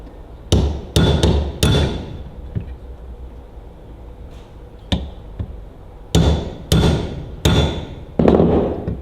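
Sharp metallic hammer blows deforming rivets on Ferguson TEA20 tractor brake shoe linings, struck in two clusters of three to four loud, ringing hits with a quiet gap between them.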